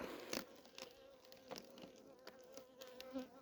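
A faint, steady buzzing of many honeybees in a weak hive in December, with brief louder passes from individual bees close by.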